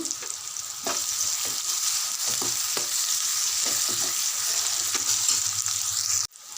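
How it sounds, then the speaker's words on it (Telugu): Onions frying with salt and curry leaves in a pan for chicken curry, a dense, continuous close sizzle broken by occasional scraping stirs, cut off abruptly near the end. "ఉల్లిపాయలు ఫ్రై అవుతున్నప్పుడు కొద్దిగా సాల్ట్ వేసుకుంటే తొందరగా మగ్గిపోతుంది"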